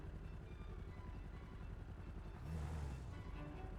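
A police helicopter hovers in GTA V Online, a steady low rotor drone with engine rumble throughout, swelling briefly louder partway through, with no speech.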